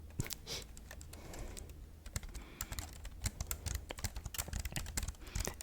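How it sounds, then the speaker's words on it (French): Close, fast typing on a computer keyboard: dense, irregular key clicks and clacks that continue throughout, with no voices. "Elle ne supporte pas le bruit des claviers."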